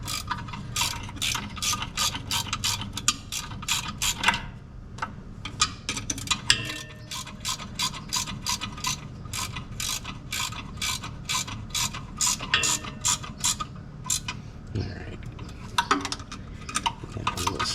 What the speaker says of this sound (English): I'm just putting a pry bar in between the teeth and I'm just holding it as I'm tightening them down